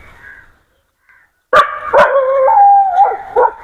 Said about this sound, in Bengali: সামনে একটা কুকুর আছে, যে কুকুরটা আমাকে দেখে অনেক চিল্লাফাল্লা করতেছে